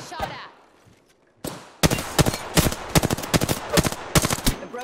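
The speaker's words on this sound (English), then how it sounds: "Getting shot at." Rapid bursts of gunfire in the Apex Legends video game, starting with a sharp crack after a quiet lull, then dense repeated shots and automatic volleys close and loud, with a voice talking over the firing.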